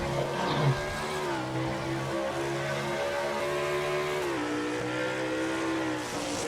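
Stock race trucks, including a Toyota, run through turn 11 at Sonoma in a racing video game, their engines droning loud and steady with rising and falling revs and a brief tire squeal near the start.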